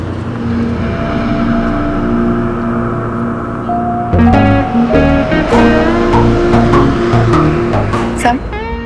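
A car being driven on the road, a steady engine drone running beneath tonal background music with some brief higher chirps toward the end.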